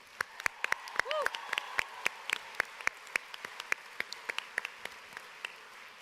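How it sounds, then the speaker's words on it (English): Sparse, scattered claps ring out from a small audience at a school district faculty meeting, distinct individual hand claps at an irregular pace, fairly faint with a brief cheer-like voice near the start. "One more round of applause for them."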